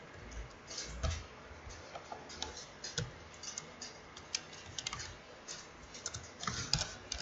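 Steady, light typing on a computer keyboard, with quick irregular key clicks that are close but quiet, set under faint, sparse speech.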